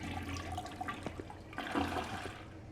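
A toilet flushing in the video game Retail Hell, a quiet gurgling rush of water with a few bubbling surges that swell and then fade, heard alone without talk.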